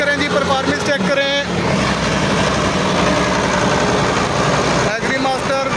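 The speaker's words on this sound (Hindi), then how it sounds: "120 हार्स पावर ट्रैक्टर" A 120-horsepower Agri Master 4x4 tractor engine runs with a continuous, loud, rumbling drone throughout, while people talk over it.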